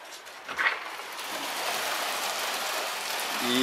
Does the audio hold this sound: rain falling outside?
yes